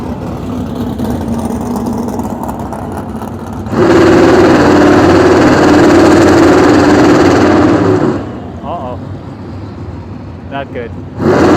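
A Dodge Challenger muscle car at a drag strip, heard from trackside under a commentator's voice, with a loud engine roar surging for a few seconds before fading back toward a quieter background.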